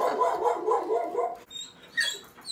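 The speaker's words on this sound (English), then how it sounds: "there goes my dog" A dog barks indoors at home: a quick run of loud, close barks, a short pause, then a few sharper, higher yips.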